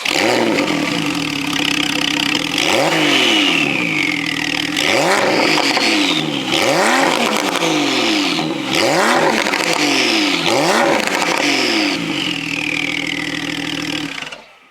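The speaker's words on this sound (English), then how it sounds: "I'm gonna let you listen to the exhaust so you can hear the turbo spool" A loud sports car exhaust revs repeatedly over about fifteen seconds, each blip rising and falling, with a whistling turbo spool and flutter between revs.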